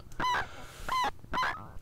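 A Tabør eurorack synthesizer module from jolin lab gives three separate honking, chirpy tonal bursts, each short and bright with a pitch bend, spaced by brief gaps, close and clear.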